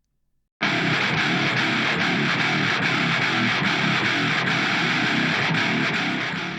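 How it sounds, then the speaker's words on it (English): Heavily distorted electric guitar tracks, played on a Bass VI, start abruptly and hold a dense, loud, sustained wall of sound for several seconds, with no talking. "Let's play back so you can hear the guitars"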